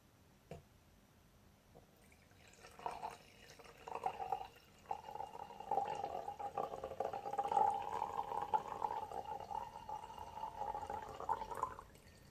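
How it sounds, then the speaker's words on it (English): Wine poured into a glass, a steady trickling, liquid stream running for about nine seconds, close and fairly quiet, with no talk over it. "Let me just pour some wine,"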